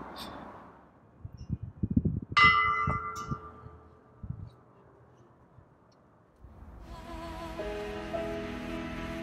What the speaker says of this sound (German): an der Glocke rumzubimmeln